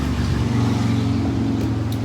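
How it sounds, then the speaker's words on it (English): Steady traffic drones outside a balcony, with a school bus and cars rumbling past in a low, continuous engine hum that stays fairly close and even, without speech. "we're going to have to deal with the school bus noises and everything else"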